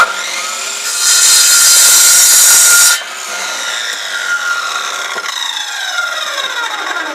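Chop saw cutting wooden legs for a workbench frame: a loud, close whine of the blade biting through timber for about two seconds, then the motor spinning down and fading.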